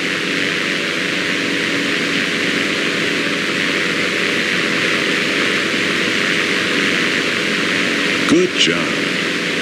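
Aircraft taxiing in Microsoft Flight Simulator Steam Edition: a steady, loud engine drone with a constant hum runs throughout, and a short spoken remark breaks in near the end.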